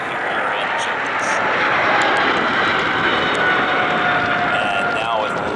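Airliner jet engines roar steadily through takeoff at Atlanta airport, a loud continuous broadband rush that stays strong throughout, with an excited voice talking over it.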